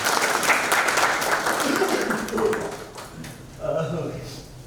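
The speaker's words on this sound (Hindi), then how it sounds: "पहले मेरे इन दोस्तों के लिए एक बार जोरदार ताली।" Audience clapping at a live Hindi stage act, a dense burst of hand claps that fades toward the end, with a few voices breaking through.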